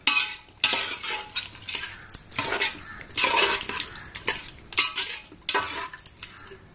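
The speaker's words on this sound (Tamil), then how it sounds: "சீக்ரெட் பவுடர் அதையும் ஆட் பண்ணி நல்லா வதக்கணுங்க" A pot of mutton biryani masala with secret spice powder gets stirred and sautéed, a utensil scraping and clinking against the metal in irregular bursts over a faint sizzle, close and moderately loud.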